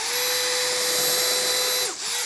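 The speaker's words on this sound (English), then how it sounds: "it's usually a good idea to pre-drill. And so you can use something like this, a countersink bit," A power drill with a countersink bit bores a pilot hole into wood in a workshop: a loud, close, steady motor whine runs for about two seconds, then briefly sags and dips near the end, with no talking.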